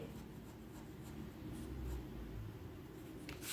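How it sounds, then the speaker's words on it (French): A pen scratches steadily across paper while leaves for a purification ritual are being written on, a quiet continuous rubbing and scribbling with no talk. "J'écris n'importe comment."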